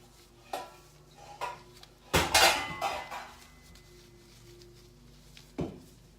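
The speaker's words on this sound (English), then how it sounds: "pulling out all my pots and pans, playing with the lids." Metal pots, pans and lids clatter and clank as a child plays with them, with a few sharp knocks and one loud jumbled crash in the middle, close by and no talking.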